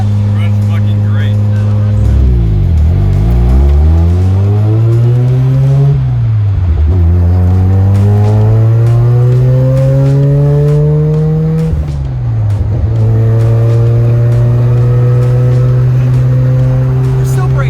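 A car being driven with its engine running steadily, the harmonics rising and dropping through several gear changes as it accelerates and shifts. People talk over the engine throughout.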